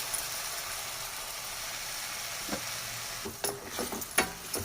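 Capsicum with a cashew and peanut paste sizzles softly in a pan, and near the end a spoon stirs and scrapes in a few sharp clatters, quiet and close with no speech.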